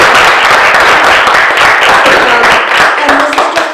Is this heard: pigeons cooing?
no